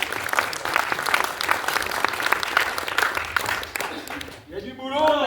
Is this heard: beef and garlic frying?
no